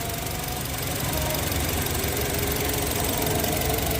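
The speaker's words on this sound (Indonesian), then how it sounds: "makanya kita hidupin mobilnya supaya akinya ngisi terus" A car engine idles steadily to keep its battery charging during a power outage, a continuous close rumble with a slight knocking texture that holds throughout, with no talking.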